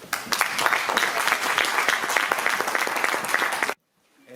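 A steady, dense round of applause fills a hall at an institutional award ceremony in Losar de la Vera, Extremadura, holding evenly for several seconds before stopping abruptly.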